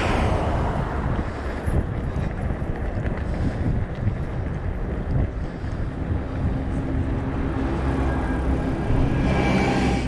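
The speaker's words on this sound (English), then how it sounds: "There seems to be a little bit less wind up here" Wind gusts across an open coastal hilltop on England's south coast, a steady roar of buffeting at the microphone throughout with no voices.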